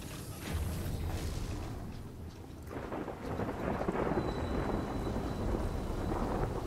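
Steady rain and rolling thunder in the video game Death Stranding, a continuous loud wash of downpour with low rumbles swelling midway, heard alone without speech.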